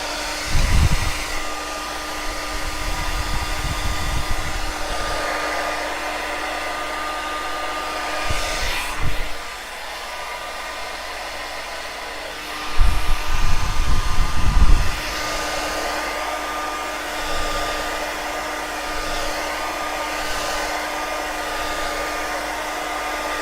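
A hair dryer blows steadily and close over a watercolour sunrise painting, its even whir running throughout with a few brief bumps in pitch and loudness as the dryer is moved.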